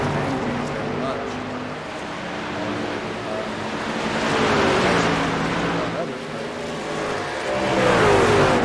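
Race car engines drone and whine at Watkins Glen in a sim racing game, swelling as cars pass close through heavy traffic, with a commentator's voice running over them.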